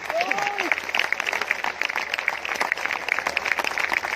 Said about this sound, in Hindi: ताली रुकनी नहीं चाहिए मेरे दोस्त, आखिरी के 5 मिनट।